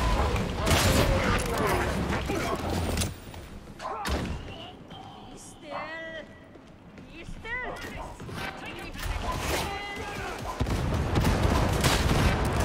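Gunfire in the Warhammer 40,000: Darktide video game: loud, dense bursts of shooting and heavy thuds, with a quieter gap in the middle filled by whining game effects, then the shooting returns.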